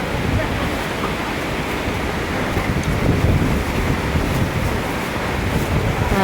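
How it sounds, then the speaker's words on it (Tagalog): Strong wind rushes steadily across the microphone in a constant, loud roar, with dense low buffeting and no pauses. "lalakas na ng pagaskas ng hangin"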